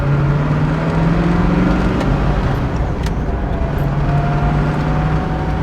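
A Ford Mustang Mach 1 with a 428 Cobra Jet engine and shaker scoop runs close by. A loud, steady, heavy rumble holds throughout without distinct rises or falls.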